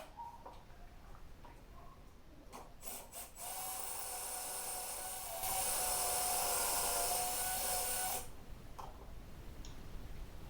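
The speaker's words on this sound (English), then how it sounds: "I'm going to use pocket screws and just attach it to the main brace." A power drill drives pocket screws into a wooden cabinet brace, with two sustained whirring bursts close by, the second louder, framed by light clicks and handling taps.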